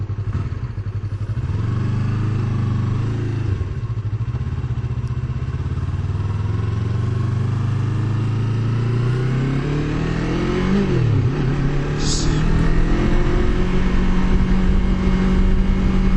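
A motorcycle engine hums steadily at moderate revs, then dips and rises in pitch as it shifts up into a higher gear, ending in a louder, stronger drone; close and continuous, no voices.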